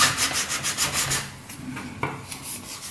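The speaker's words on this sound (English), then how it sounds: "rubbing these bits down here, rubbing it all down" Sandpaper rubbing down filled parts of a homemade Dalek model, a steady back-and-forth scratchy rasp in quick rhythmic strokes close to the mic, easing off briefly in the middle before resuming.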